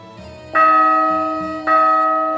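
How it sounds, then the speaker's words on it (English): A church bell in The Guild 3 strikes twice, loud and close, each ringing tone sustaining with a slow decay over a soft ambient background. "That church bell, man, phew, it's loud as hell."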